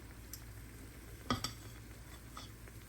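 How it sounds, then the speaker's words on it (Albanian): Spoonfuls of soft dough batter dropped into hot oil for quick fried fritters, a steady low sizzle with a couple of sharp spoon clinks midway, close and without talk. "duke marrë brumin pra lug edhe duke qitë në vajin e nxehur"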